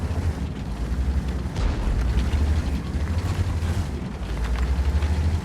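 Heavy tank cannon fire in World of Tanks, with deep booming blasts and a rumbling engine beneath, sustained and loud throughout.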